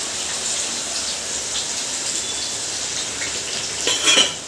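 Onion pieces frying in hot oil in a village-style kitchen give a steady, loud hiss and crackle that swells briefly near the end.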